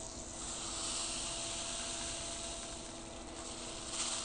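A continuous soft hiss of many small beads trickling and falling steadily through a 3D-printed rainmaker, like light rain, with no distinct individual hits, fairly even in level throughout.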